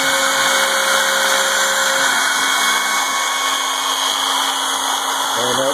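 A ShapeOko CNC router spindle cuts steadily, a loud high-pitched continuous whine with a slight shift in tone near the end.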